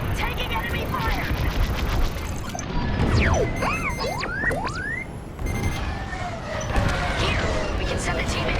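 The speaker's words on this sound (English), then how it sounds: "Taking enemy fire." Laser blasts and crashing impacts from enemy fire in the Star Wars Squadrons space combat game, with whining, pitch-sliding zips and a constant rumbling engine bed.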